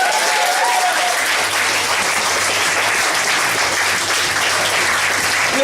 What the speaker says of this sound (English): Give a massive round of applause for Matty Delaney.